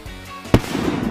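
A firecracker set off during a summer festival night bursts once with a sharp, loud crack close by, followed by a brief crackling tail.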